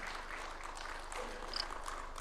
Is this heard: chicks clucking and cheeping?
no